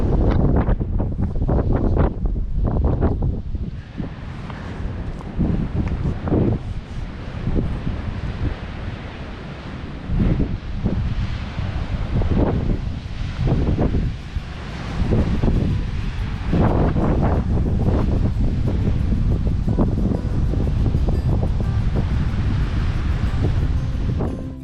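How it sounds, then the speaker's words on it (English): Strong coastal wind at a Cornish cove buffets the microphone in loud, gusting low-frequency roars for the whole stretch, over a wash of surf and ocean noise. "it was very windy today, which made a lot of my audio unusable because the wind was blowing into the microphone"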